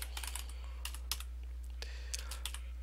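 Light keystrokes on a computer keyboard, a short irregular burst of quiet clicks with small pauses, set against a low steady background hum.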